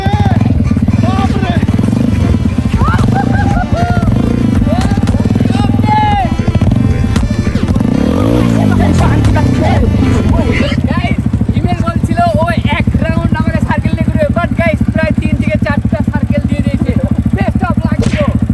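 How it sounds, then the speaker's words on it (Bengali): A motorcycle carrying two riders performs a wheelie circle outdoors, its engine loud and close with revving pitch sweeps and a continuous throaty drone, while voices and background commotion sound over it throughout. "এখন হিমেলে হুইলি সার্কেল করছে।"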